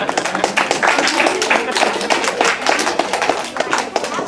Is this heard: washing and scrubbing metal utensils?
no